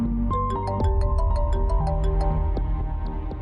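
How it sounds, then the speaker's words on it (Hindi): An electronic phone ringtone plays a bright, repeating melody of short tonal notes, loud and close, with no talking, in a TV drama scene. "उठा ले हशमत भाई, फोन उठा ले।"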